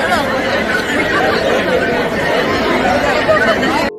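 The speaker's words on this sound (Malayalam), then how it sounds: "വലിയ രീതിയിലുള്ള ക്രൗഡ് തന്നെയാണ് നമ്മൾ ഇവിടെ കണ്ടത്" A crowd of fans fills the space with a continuous, loud, dense chatter of many overlapping voices at the Honey Rose shop inauguration.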